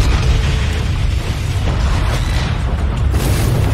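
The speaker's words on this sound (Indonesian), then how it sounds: "mereka melarikan diri dengan memberikan ledakan besar di bus tersebut" A bus blows up in a film, a loud sustained blast with a heavy low rumble and crackling debris that holds steady for several seconds without fading.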